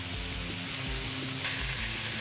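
Turkey meatball sauce sizzles steadily in a hot pan while a spoon stirs through it, giving a continuous close frying hiss with soft rhythmic scraping beneath.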